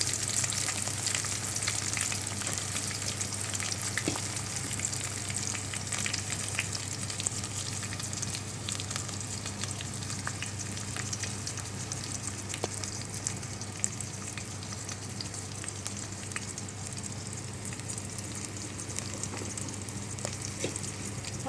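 Onion and green chilli pieces fry with spices in oil for Telangana-style bagara rice, a steady, close sizzle running throughout with faint clinks now and then and no talking.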